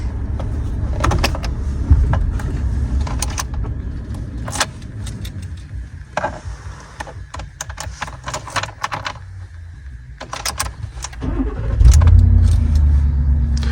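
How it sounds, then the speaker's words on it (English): In a 2019 Ford F150 pickup, keys jangle and clicks come from the cab, followed by the engine shutting off with a low rumble that swells near the end before settling, all close and without speech. "Now I'm going to shut the truck off and prove that it memorizes that it's in off."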